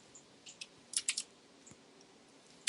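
A computer keyboard is typed on quietly: a few scattered keystrokes, then a quick cluster of clicks and one last sharp tap, close and alone.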